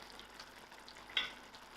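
Spinach and orange masoor dhal curry simmering and being stirred in a pan, a faint steady sizzle with one brief scrape of the spoon partway through.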